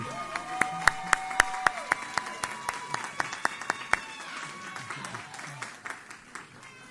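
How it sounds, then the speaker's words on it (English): Rhythmic, evenly spaced claps ring out at an oratorical contest honoring winners, a steady beat of sharp hand claps over sustained musical tones, loosening into scattered clapping toward the end. "Once again, give them another round of applause."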